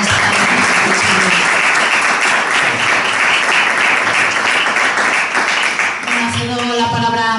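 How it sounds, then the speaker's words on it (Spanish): At a book presentation in Seville, an audience gives a loud, steady round of applause that holds for about six seconds, then fades as a speaker starts talking. "por favor un fuerte aplauso para él por acompañarnos esta tarde"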